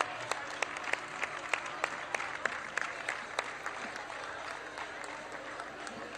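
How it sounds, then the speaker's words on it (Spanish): An outdoor crowd at the Feria del Caballo in Jerez applauds a booth-contest prize. The clapping is moderately distant, with sharp individual claps standing out over a soft, continuous wash of applause. "Fuerte aplauso también para nuestro segundo premio."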